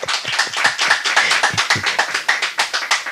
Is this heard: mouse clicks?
no